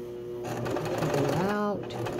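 A sewing machine stitches a baby quilt in a quick, steady mechanical whir close by, pausing briefly as the fabric is turned. Someone talks over it.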